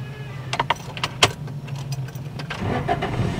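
A manual transmission car being started during a driving lesson: a few short clicks and a brief cranking rattle, then a low engine rumble that builds toward the end, close by.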